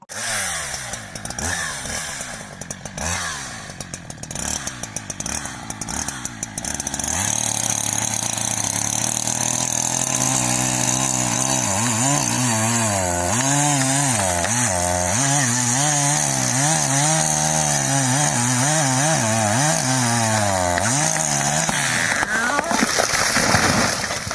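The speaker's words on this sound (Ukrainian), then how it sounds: "Спиляли ми з Володію стару згорівшу вербу." A chainsaw idles and revs in short bursts, then bites into an old burnt willow with a loud, steady, wavering whine that runs on at close range.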